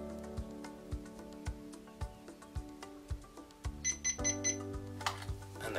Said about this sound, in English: you get 4 beeps to show that it's gone back to default.